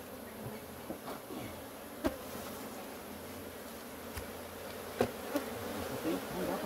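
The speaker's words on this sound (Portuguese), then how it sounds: "Olha como as abelhas, elas querem voltar para a caixa." Honey bees swarm around an opened hive in an unmanaged apiary, giving a dense, steady drone of many insects close by, with a few individual bees zipping past the microphone.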